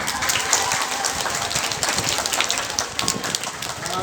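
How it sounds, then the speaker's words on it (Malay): An audience in a school hall applauds, a dense, steady wash of clapping that holds at an even level throughout with no distinct voices on top. "Okey, dulu. Tepukan."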